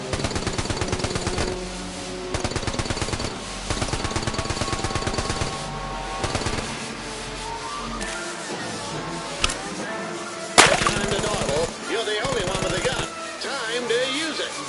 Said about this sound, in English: the only way we're going to stop it is to match its weight with the strength of our fully automatic Johnson SMG